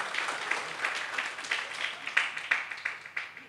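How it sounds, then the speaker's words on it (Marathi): An audience at a Marathi lecture on balancing life claps together, a faint but steady patter of many hands with a few louder bursts near the end. "ज्यांना बोर झाला असेल एकदा जोरात वाजवा टाळ्या"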